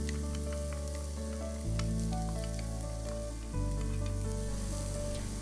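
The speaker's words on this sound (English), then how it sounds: "Add the chopped onion and continue to stir fry." Chopped onion and chicken stir-frying in a pan for Japanese omurice, a steady bright sizzle running throughout beneath loud background music.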